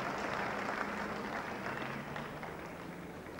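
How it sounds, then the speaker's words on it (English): A cricket crowd applauds a boundary, a steady, even wash of clapping and cheering that carries on throughout and fades slightly toward the end. "it gives the colourful crowd something to cheer about"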